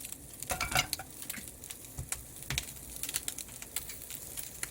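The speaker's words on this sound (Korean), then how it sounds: "고추나 야채 같은 거 한번 넣어보고 지지 소리가 나면은 넣으시면 됩니다" Oil heating in a frying pan wok, ahead of chili peppers and vegetables going in, gives a soft crackling sizzle with scattered pops and a few utensil scrapes and clicks, fairly close and moderately quiet, no talking.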